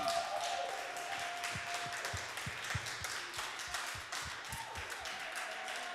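Audience applause fills a hall at a church event, a steady wash of clapping with distinct individual claps standing out, fairly faint and sustained throughout with no voices over it.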